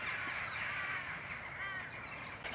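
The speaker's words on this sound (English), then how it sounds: "all that kerfuffle in the background is crows trying to ward off" Crows caw in a noisy, overlapping chorus while mobbing a buzzard in a nesting-season countryside setting, with harsh repeated calls held at a steady, fairly distant level and no voices.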